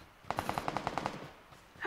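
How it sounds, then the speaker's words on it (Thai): Rapid pistol fire in the video game PUBG Lite: a quick burst of about nine sharp, evenly spaced shots over roughly a second, fairly close and loud, followed by quieter game ambience. "ปืนที่ว่ามันเป็นปืนพกแล้วยิงแบบยิงรัว"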